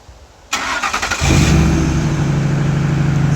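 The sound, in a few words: 2004 Ford F-150 engine started with Viper remote start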